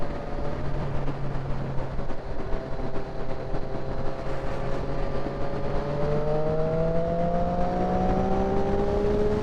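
A Yamaha Phaser motorcycle engine drones steadily on an evening bike-night ride, its pitch climbing slowly as it accelerates, with road and wind noise throughout and no talk.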